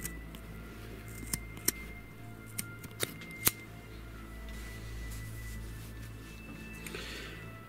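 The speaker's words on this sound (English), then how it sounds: "we're just going to go ahead and cut a hole right there with a pair of scissors" Scissors snip through fabric while distressing LARP-style clothing, several sharp, close clicks spaced over the first half, then quieter handling noise in a calm room.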